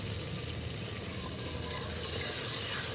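Tomato masala fries and sizzles in a pan for a potato dish while being stirred, a steady close hiss that grows louder toward the end.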